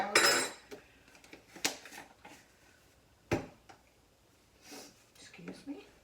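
A spoon scoops peanut butter powder into a bowl of dog treat mix, making a few sharp, close clinks and scrapes spread out over quiet moments, with a voice faintly present.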